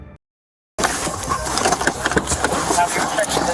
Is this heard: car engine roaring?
yes